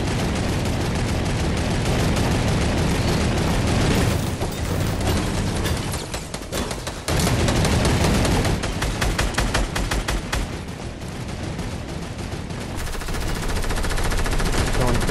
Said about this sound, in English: Shooting at us or just shooting at you?